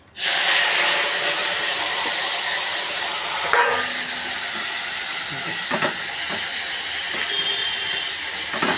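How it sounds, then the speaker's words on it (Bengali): Eggplant pieces dropped into hot oil give a sudden loud hiss that settles into a steady, close sizzle with a few faint clinks of the pan or spatula, no voices. "এবার তেলের মধ্যে বেগুনটা ছাড়ছি"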